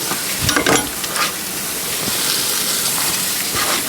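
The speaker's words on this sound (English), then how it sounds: "Just saute that down." Spinach sautéing in a pan alongside bell peppers, carrots and peas, with a couple of stirring scrapes early on over a continuous close sizzle.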